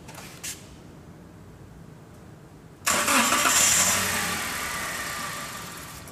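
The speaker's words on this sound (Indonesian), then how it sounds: "Mobil akan menyala, tetapi sebentar." A car engine with its fuel pump fuse removed cranks briefly and then catches, settling into a loud idle that begins to fade, heard close with no talking.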